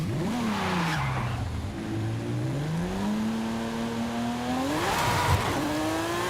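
Car engine revving and shifting pitch throughout, with tire squeal and skidding bursts near the start and around five seconds, from Forza Horizon 5 driven with a Logitech G29 steering wheel; steady and fairly loud with no talking.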